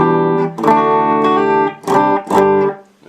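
Electric guitar on a bridge pickup played through the clean channel of a Blackstar HT-20 Studio head into an HTV-212 cab with the tone at halfway, ringing sustained chords restruck several times, close and loud with no talk.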